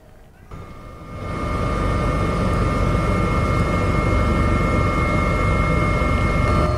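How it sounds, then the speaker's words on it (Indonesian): A helicopter flies over the Jakarta–Cikampek toll road, giving a steady, loud, close rotor and engine roar that swells in within the first two seconds and then holds. "Kapolri Jenderal Listio Sigit Prabowo memantau situasi arus mudik Lebaran di Tol Jakarta Cikampek menggunakan helikopter."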